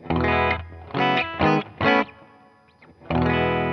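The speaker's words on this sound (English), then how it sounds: "That's just guitar into the amp." A clean Epiphone Sheraton 1962 reissue guitar played straight into a Fender Deluxe amp with no pedals, a few loud chords ringing out in short bursts with a brief quieter picked passage between them.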